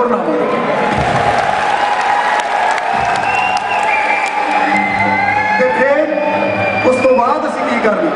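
Sustained, dense audience applause with some cheers at a Punjabi stage show, loud and continuous, with a voice speaking over it.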